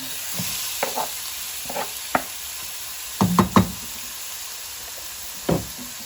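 Steady sizzling hiss from a pot of onion and garlic frying in oil, with scattered scraping and stirring knocks of a utensil, no voices.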